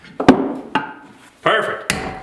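A hammer pounds a piece of a homemade sanding block into place with four sharp, close strikes in two pairs, each ringing briefly before the next.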